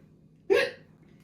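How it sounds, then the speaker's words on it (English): A single sharp hiccup bursts out close to the mic in a quiet kitchen during a marshmallow krispie treat making session, then fades quickly into low room noise. "I need to hiccup again."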